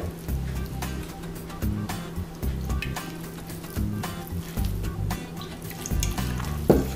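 Water runs steadily into a cooking pan while preparing General Tao chicken, a continuous splashing flow with faint clatter, loud and close throughout with no talking.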